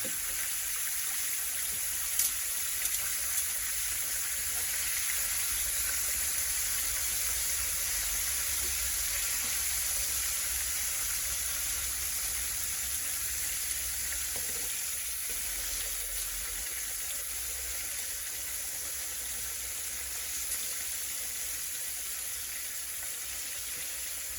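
Fish goujons frying in hot oil in a pan, a steady, even sizzle and hiss that holds at the same level throughout with no talking.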